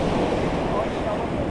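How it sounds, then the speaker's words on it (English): Ocean waves surge in and break against rocks along a Caribbean shoreline, a steady broadband wash of surf with wind noise buffeting the microphone throughout. "when the waves come in, sometimes they hit like that"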